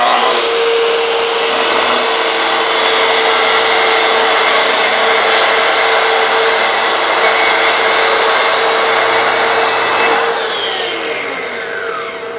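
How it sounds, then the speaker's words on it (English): Corded track saw ripping through a wooden board, a loud steady whining cut held for about ten seconds before the motor winds down, close and alone. "first up we'll test the corded track saw"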